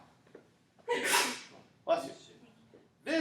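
A sneeze bursts out during a math lecture, a sharp broadband blast followed about a second later by a second sneeze-like burst and the start of a third, close and fairly loud in a quiet room.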